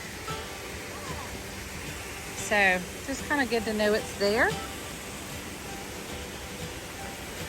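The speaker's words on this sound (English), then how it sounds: "Wow, this is the second waterfall, and she's a beaut." Steady broadband rush of a waterfall on the Virgin Falls trail, constant and moderately loud throughout, with someone speaking over it briefly in the middle.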